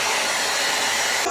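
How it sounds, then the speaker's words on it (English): A hair dryer blows on freshly dyed hair, a loud, steady airy whir heard up close and unbroken for its full short length. "Time for blow drying!"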